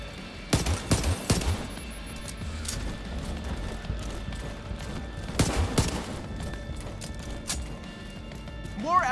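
Gunfire in the video game The Division 2 at an embassy crash site: bursts of automatic shots crack up close around the start and again midway, over a busy combat background, with voices in the game.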